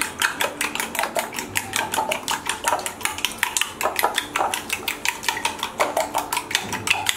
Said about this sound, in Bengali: এবারে ডিম আর চিনির মিশ্রণটাকে ভালোভাবে মিক্স করে নিচ্ছি।